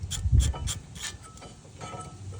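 A wrench working on torqued 17mm bolts, giving a few close ratcheting clicks and creaking metal-on-metal turns, moderately loud at first and then quieter, with no talk.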